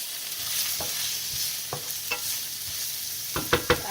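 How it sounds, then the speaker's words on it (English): Vegetables for a gluten-free potato lasagna sauté in a pan with a constant gentle sizzle, broken by a few spatula scrapes and taps that cluster near the end, close and clear without voices. "Saute it to give it cook it more so that it's nice and tastes yummy."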